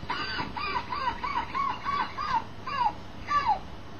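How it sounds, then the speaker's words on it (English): An origami flapping-bird toy plays recorded seagull cries: a rapid run of about eight squawking calls, followed by a few slower, drawn-out ones, moderately loud and close. "all I tend to hear was the eponymous sound of seagulls"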